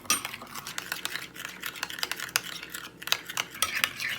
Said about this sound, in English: Then mix all together.